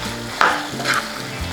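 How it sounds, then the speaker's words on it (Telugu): Chicken fry sizzling in a pan while garam masala is stirred in, with two brief scraping strokes of a utensil over steady frying hiss. "గరం మసాలా పొడి వేసుకుని ఒకసారి మిక్స్ చేసుకుందాం."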